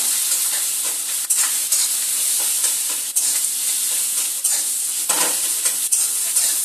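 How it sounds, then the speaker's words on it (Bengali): Fish roe sizzles and spatters in hot oil where leftover rinse water hits the pan, a loud steady crackling hiss with sharp pops scattered throughout, alone with no voices. "বাটির মধ্যে যখন ধুয়ে রেখেছিলাম জল ছিল ডিমের মধ্যে সেই জলটাই তেলের মধ্যে যখন পড়েছে সেটাই আওয়াজ হচ্ছে"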